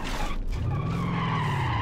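A Lamborghini spinning out in the video game BeamNG.drive lets out a sustained, loud tire screech with an engine drone underneath, holding steady for nearly two seconds.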